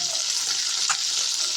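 Fish frying in hot oil in a wok hisses with a dense, steady, bright sizzle, close and fairly loud, with a brief louder crackle partway through.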